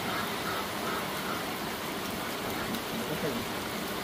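Steady rain falls outdoors, a dense, even hiss that holds without pause across the whole stretch at moderate loudness.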